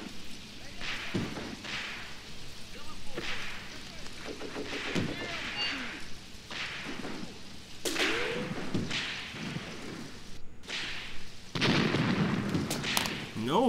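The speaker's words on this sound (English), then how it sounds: "It was a mortar round, but not quite close enough to damage the enemy." A mortar round explodes in the WWII tactics game Graviteam Tactics: Mius Front among scattered distant thumps and sharp cracks of battlefield gunfire. There is intermittent talking throughout.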